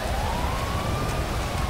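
Ambulance siren in the GTA 5 video game, a steady rising wail carried over dense rumbling traffic noise, continuous and fairly distant throughout.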